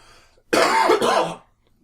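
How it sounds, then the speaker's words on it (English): A single burst of coughing, close and fairly loud, lasting about a second and sounding rough and throaty, with quiet before and after. "I'm just coughing. And coughing easy."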